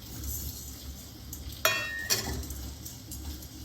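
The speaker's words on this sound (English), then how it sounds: "lightly stir it continuously so that it gets roasted evenly" Dal roasting in melted ghee crackles softly as it is stirred in a pan, and a utensil clinks twice against the metal partway through.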